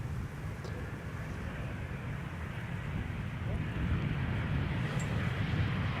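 A passenger jet arriving at Amsterdam Schiphol Airport after a flight from Miami, a ten-year-old airframe, produces a steady low broadband roar that swells slightly toward the end, heard from a distance outdoors with faint background noise.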